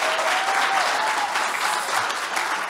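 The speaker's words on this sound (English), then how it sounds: "Please give them a warm round of applause." Warm, sustained audience applause from a morning crowd at a live quiz show in Menlyn Shopping Centre, loud and continuous with a thick even texture and no speech on top.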